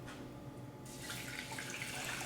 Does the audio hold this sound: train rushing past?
no